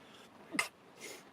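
A single quiet sneeze bursts out inside a parked van, brief and close, followed by a faint breathy exhale.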